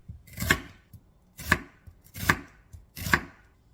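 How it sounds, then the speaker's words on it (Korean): A knife cuts an onion into thin julienne strips on a cutting board, four crisp chopping strokes landing at a slow, steady pace, close and clear with no voices. "양파 1개는 채 썰어주세요"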